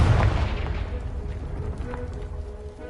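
A Confringo blasting spell explodes in a Harry Potter video game, a deep booming blast at the start that rumbles and decays over a few seconds, loud and close with no talking.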